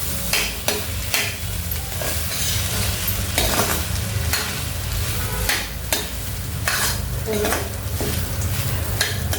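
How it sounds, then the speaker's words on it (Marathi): Lemon rice ingredients in a pan with two bowls of lemon juice are stirred and mixed, giving repeated scraping clatters of a spoon against the pan over a steady sizzle, close and fairly loud. "जो लिंबाचा रस आहे दोन वाट्या तो घालायचा आणि सगळं साहित्य व्यवस्थित मिक्स करून घ्यायचं आहे"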